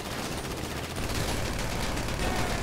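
Dense, rapid bursts of gunfire crackle continuously in GTA V Online, like sustained automatic shooting heard at moderate volume.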